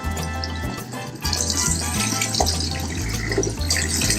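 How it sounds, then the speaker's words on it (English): Warm water runs steadily from the tap at a barbershop shampoo bowl while hair is rinsed, a loud continuous splashing rush close by. "We're at the shampoo bowl."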